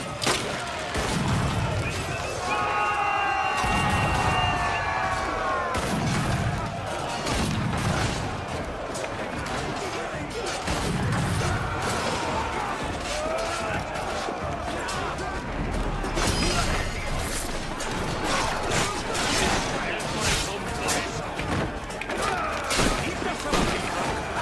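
Gunfire rattles in the pirate-era action game Assassin's Creed Black Flag, with dense volleys, booms and crashing impacts running loud and continuous under a voice.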